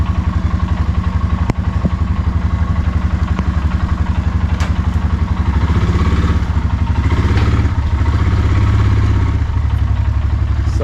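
Honda 300 ATV engine running steadily close by on a bumpy ride, a loud, even throbbing drone with clattering knocks and a slight swell partway through, no talk over it.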